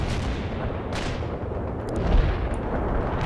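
Artillery fire support in the strategy game World in Conflict: a dense, continuous rumble of distant shelling and booms, loud and unbroken, with no voices.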